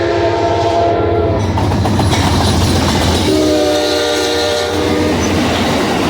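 An Amtrak passenger train roars past a depot at speed without stopping, loud and close, with rhythmic wheel clatter and two blasts of its horn.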